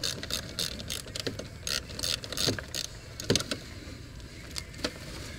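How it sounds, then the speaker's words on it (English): A ratchet clicks in quick, irregular bursts while bolts are unscrewed in a tight engine space, faint and close against a low background hum. "So unscrew these."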